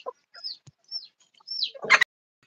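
Chickens on a poultry farm give short high chirping clucks, three rising-falling calls spaced apart, followed by a brief harsher squawk, close and otherwise quiet.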